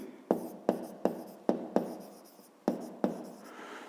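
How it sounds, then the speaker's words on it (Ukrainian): Numbers written by hand, likely chalk or pen on a board, produce eight sharp tapping strokes in an uneven rhythm, close and clear with no talking. "Знову пишемо"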